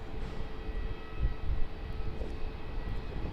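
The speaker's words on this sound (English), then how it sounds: "We've just got our 777 from Singapore Airlines departing off of 27" Singapore Airlines Boeing 777 departing Melbourne Airport, a steady distant jet engine roar with low rumble, continuous and moderately loud outdoors with no voices.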